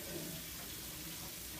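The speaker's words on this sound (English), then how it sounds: "You turn your water off." A sink tap runs steadily during handwashing, a faint, even hiss of flowing water with no break.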